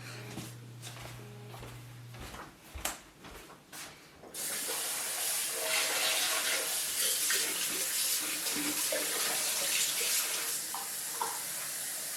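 Cold water poured from a tap into a jar to soak acorn flour: after some faint handling taps, a loud steady rush of running water starts and continues evenly to the end, close and alone.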